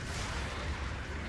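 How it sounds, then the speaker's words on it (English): A mobile suit blowing up in the video game Gundam Battle Operation 2, a short, loud, dense roar of blast noise filling the whole moment, with no voices. "And now I'm going to explode just dramatically"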